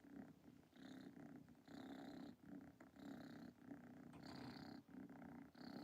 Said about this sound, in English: He's purring hella loud.